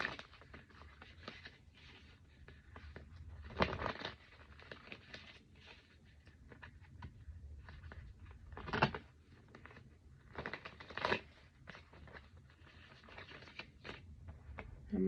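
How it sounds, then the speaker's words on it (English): Tarot cards are shuffled close by in quiet surroundings, with faint riffling and soft tapping punctuated by a few louder bursts as the deck is cut and squared. "I'm not shuffling correctly."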